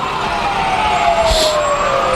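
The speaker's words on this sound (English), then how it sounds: "the fire trucks, the Oneida fire trucks, fire engines." Oneida Fire and Rescue fire engines roll past in a Christmas parade, a close, loud engine rumble with a siren tone sliding slowly downward and a brief burst of hiss midway.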